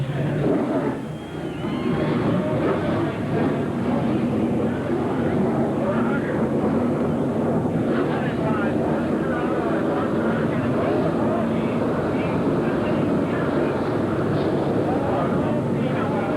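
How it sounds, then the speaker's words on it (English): Race car engines at Jennerstown Speedway during the 1995 ASA AC-Delco Challenge Series Rapidfire 400 roar together at the start, a loud continuous rumble of many engines with a voice over the public address. "Gentlemen, start your engines."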